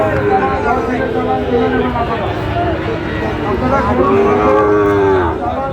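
Sahiwal cattle at a livestock market give several long, loud nearby moos, one early and another drawn-out call near the end, amid steady crowd chatter.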